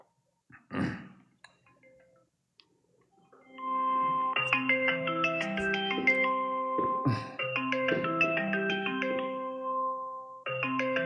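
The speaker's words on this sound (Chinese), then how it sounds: "那我现在就给小小打电话" A phone sounds a melodic ringtone for an outgoing call, starting after a brief thump and quiet pause, then playing a repeating tune that stops briefly and resumes, fairly close and without talk.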